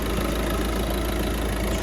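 A Peugeot 3008 with an automatic gearbox and 216,000 km idles steadily nearby, its engine giving a smooth, even, continuous hum with no other sounds.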